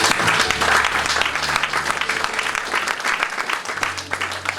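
A church congregation claps steadily and loudly, a dense crackle of many hands that thins slightly toward the end, with a voice and low organ-like tones underneath.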